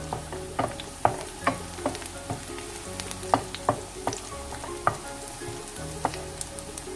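Garlic fries in butter in a pan with a constant crackling sizzle, punctuated by sharp, irregular clicks as it is stirred. No one speaks.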